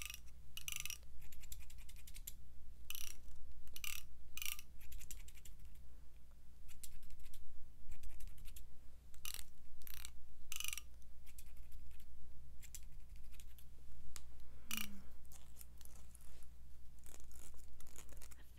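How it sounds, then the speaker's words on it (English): Close, crisp snips of scissors trimming the front of someone's hair come in irregular bursts, with quiet pauses between the cuts. There is no talking. "Going to trim up the front a little bit."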